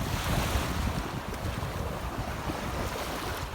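Steady sea surf rolls at the shore with wind buffeting the microphone, a continuous loud wash of waves and no voices.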